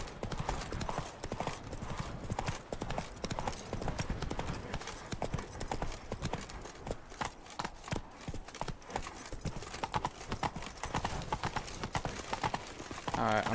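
Roach, the horse in The Witcher 3: Wild Hunt, gallops with fast, rhythmic hoofbeats that stay close and steady, while someone talks over them now and then.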